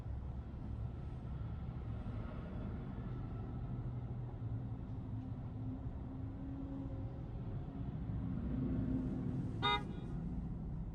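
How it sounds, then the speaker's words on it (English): Steady low New York City traffic rumble throughout, with a brief sharp car horn toot near the end. "We're getting honked at."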